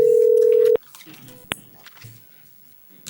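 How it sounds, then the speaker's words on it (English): A telephone dial tone hums steadily for under a second while a bond court hearing places a call. It cuts off abruptly, leaving soft room noise and a brief click. "Did we get Ms. Vickers on the phone?"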